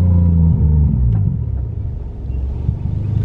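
A car's 1JZ engine rumbles low and steady at idle, close by, settling down after a slightly louder start.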